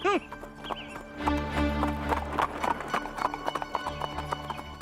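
Hooves of a horse clip-clopping as a horse-drawn tonga cart approaches, rhythmic knocks under music and a possible whinny, fairly close and loud.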